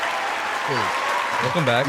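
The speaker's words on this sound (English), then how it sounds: "Give him the claps, please." Podcast studio audience claps for an arriving guest, a steady burst of applause that carries throughout while someone speaks briefly over it near the end.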